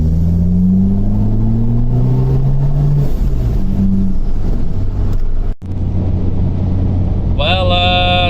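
Car driving home from Bimmerfest, a steady low engine rumble and road noise, with shifting engine tones and a person talking over it.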